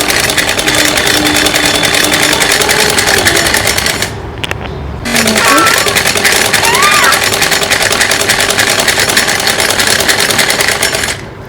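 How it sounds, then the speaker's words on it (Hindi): A sewing machine runs a long line of stitches down the leg of a child's night suit, a steady close whirring that stops briefly near the middle before starting again. "पूरे पैर पर हमें इस प्रकार से सिलाई लगा लेनी है।"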